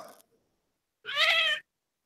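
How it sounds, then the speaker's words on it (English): A cat gives a single clear, close meow lasting about half a second, heard after a short clipped sound and otherwise surrounded by silence. "That wasn't Bridget, that was a cat"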